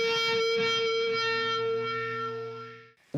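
An electric guitar played through an xSONIC xTONE with a Lone Star amp profile and wah holds a sustained, effect-laden chord that rings loudly and then fades before cutting off.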